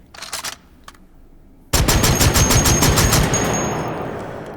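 A few faint clicks give way to a sudden loud burst of full-auto fire from the Sergei Kilemov in Hot Dogs, Horseshoes and Hand Grenades, rapid shots hammering for about two seconds, then a ringing tail fading out.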